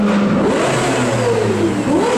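A Lexus V10, co-developed with Yamaha's instrument division and musically tuned, revs hard toward its 9,500 RPM redline. The loud, sustained wail climbs and swoops in pitch with no talking.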